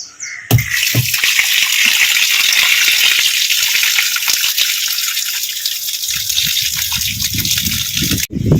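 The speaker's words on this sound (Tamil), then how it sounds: "இனி தண்ணியை திறந்து விட்டுட்டு அதுக்கப்புறம் நம்ம வந்து மீதி உள்ளதை உள்ள கீழே தர எல்லாம் வந்து கழுவிலாம்" Water gushing loudly and continuously out of a Sintex water tank during cleaning, a heavy close roar of pouring water that starts abruptly and runs steadily for several seconds.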